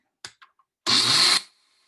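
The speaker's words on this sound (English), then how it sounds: "And then you start blending it." A kitchen blender whirs rice and water into horchata: a few small clicks, then a loud half-second burst of motor roar that stops abruptly, close by with no voices.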